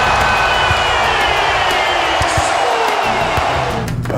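A fired-up Atlanta Hawks home crowd roars at a basketball game, a dense, loud, continuous wall of cheering with a commentator's voice over it and faint ball bounces and thuds underneath.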